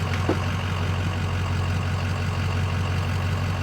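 A 6.0 Powerstroke diesel truck engine idling steadily with a constant low drone and even hum, close and alone with no voices.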